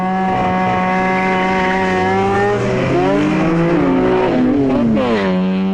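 Mazda RX-3 rotary engine screaming loud and close in a drag race against a 510-horsepower car, rising through the revs with gear-change drops and tire squeal, alone without voices.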